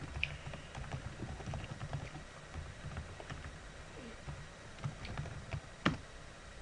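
Quiet computer keyboard typing at close range, a loose run of soft key taps spread over a few seconds against a hissy background, with one slightly louder click near the end.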